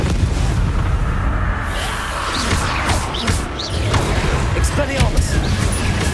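Spells being cast in the video game Hogwarts Legacy: loud, dense booming blasts and crackling bursts fill the whole stretch with no pause.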